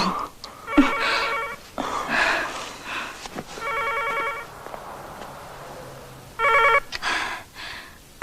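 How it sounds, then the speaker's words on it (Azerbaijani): Telephone ringing indoors in a domestic scene: three separate bursts of a bright electronic ring, spaced a few seconds apart, with faint sounds and voices between them. "Telefon."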